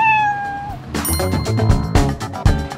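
A cat meows loudly and close up, layered over dense music with chimes and a sustained tone at the start, and no talking.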